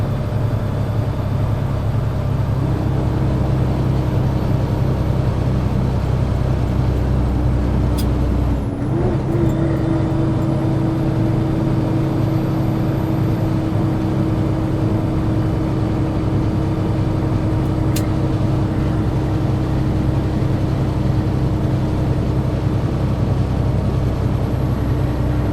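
Heavy haul truck in 12th gear pulling 107,000 lbs up a steep mountain grade at around 1,400 RPM, a loud, sustained low engine drone with a steady tone and a brief mechanical shift partway through.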